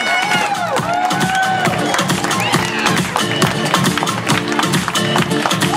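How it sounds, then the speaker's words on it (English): A crowd at a challenge-winner announcement cheers and shouts loudly and continuously, with excited voices and whoops rising over a busy background of clapping and chatter. "These people deserve a tremendous round of applause."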